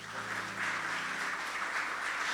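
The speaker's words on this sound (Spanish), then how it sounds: "dale un fuerte aplauso al Señor" A church congregation claps together in sustained applause, a dense even patter of many hands heard at moderate distance, no speech over it.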